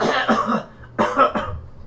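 A narrator imitates a soot-covered, singed character coughing, with two short bursts of rough, throaty coughs close up and a brief gap between them.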